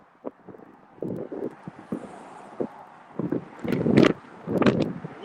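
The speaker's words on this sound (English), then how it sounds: "The wind's coming the wind's at my back. It's pushing me." Gusty wind buffeting the microphone outdoors on a bridge, with irregular low rumbling bursts that swell and drop, growing stronger toward the end.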